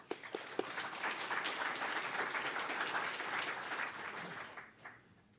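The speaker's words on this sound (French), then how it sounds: "Moi, je propose qu'on l'applaudisse quand même." An audience at a tech conference talk breaks into applause for a speaker, starting with a few sharp claps before swelling into sustained, dense clapping that fades out after several seconds.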